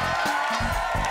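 A studio audience applauds and cheers a contestant on the Indonesian game show Super Deal Indonesia: a steady, full wash of clapping that fills the whole moment over a musical backdrop.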